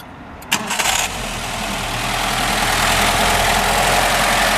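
A 1962 Mercedes-Benz 190SL roadster, an unrestored survivor, cranks briefly with a few sharp catches and then fires into a steady, quiet idle close by, with no talking.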